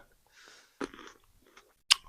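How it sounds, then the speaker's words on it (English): Someone chews grapes close to the mic, with a soft wet crunch, a sharper bite, a few small chomps and a final crisp snap across two quiet seconds. "I do apologize if you can hear me chewing."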